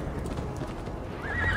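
A horse clip-clops and whinnies in the video game Assassin's Creed Valhalla, hooves blending into a steady rumbling bed before a rising neigh near the end, moderately loud.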